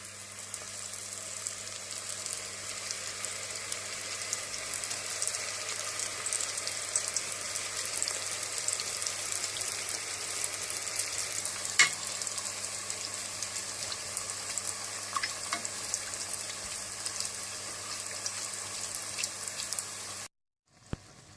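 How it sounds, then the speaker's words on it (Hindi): Spring rolls deep-fry in hot oil with a continuous, even crackle and bubbling, close by and steady for about twenty seconds, then it cuts off abruptly. "इसके बाद आप तेल गरम कर लें और ये स्प्रिंग रोल तल लें।"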